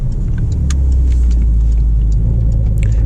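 A 2020 Porsche 992 4S convertible cruises and slows to pull over, its engine a deep steady rumble close up with tire and road noise, no voices.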